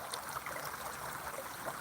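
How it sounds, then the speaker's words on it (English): Indian Creek, an icy wilderness stream, flowing with a soft, steady trickle and wash, faint and continuous with no voices. "Hear it? This is the Peckensagan Creek."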